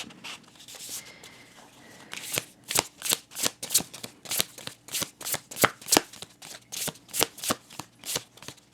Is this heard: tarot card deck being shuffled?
yes